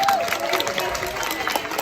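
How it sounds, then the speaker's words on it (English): Brief burst of applause and some cheering from a panel audience at a media discussion event, moderately loud and lasting only a moment, with a voice heard over it. "let's give a round of applause for our panelists today"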